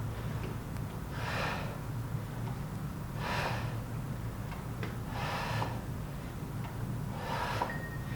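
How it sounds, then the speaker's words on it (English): Steady breathing during a home strength workout, four slow breath bursts spaced about two seconds apart, close and fairly soft over a low background hum. "Breathe in, breathe out."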